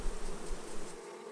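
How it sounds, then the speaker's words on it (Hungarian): Honeybees buzz densely as they are shaken and brushed off honeycomb frames at a hive, a close, continuous swarm drone. "Óvatosan lerázzák és lesöprik a szorgoskodó méheket a lépről."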